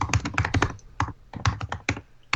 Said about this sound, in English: She is well versed in smashing of keyboards